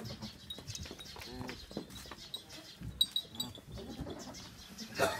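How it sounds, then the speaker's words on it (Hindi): Goats bleat intermittently on a goat farm in Chakanwali, Gujrat, mixed with nearby people talking and general farmyard bustle at moderate to low level. "माशाल्लाह चंगी नस्ली बकरी है"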